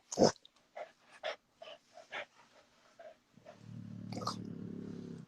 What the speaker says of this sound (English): this little dog acting stupid right now